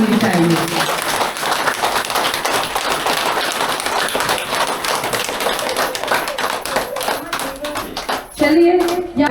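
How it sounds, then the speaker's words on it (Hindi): A meeting audience at a DXN Sunday gathering in Vijaypur breaks into loud, sustained applause, dense overlapping claps filling the room for about eight seconds before a voice resumes. "तो हम चाहेंगे फिर से एक जोरदार ताली होनी चाहिए।"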